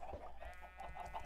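Chickens in a survival video game cluck softly in short, repeated bursts against a low steady hum, faint and close with no speech.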